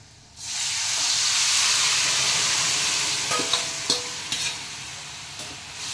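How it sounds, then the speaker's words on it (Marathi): Cooked colocasia (taro) leaves being stirred into a spiced chilli-powder mixture in a hot pan, with a steady broad sizzle and several sharp spoon scrapes and clinks toward the end, close and loud with no talking. "आणि छान असं मिक्स करून घ्यायचं याला"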